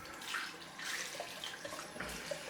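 Tap water runs in a steady, soft hiss, rinsing shaving soap off during a straight razor shave with a Wade & Butcher 5/8 razor. It stays continuous and fairly faint, with no talking.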